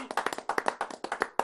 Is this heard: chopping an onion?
no